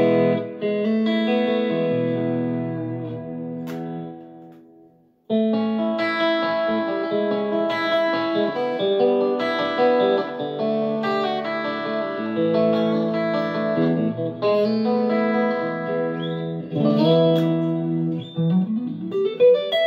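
Electric guitar played through a Yamaha THR30ii amp into a 4x12 cabinet, heard alone as sustained distorted chords and riffs with effects, one brief pause near the start, then continuous ringing playing.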